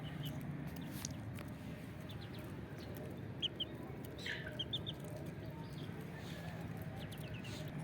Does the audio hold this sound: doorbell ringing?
no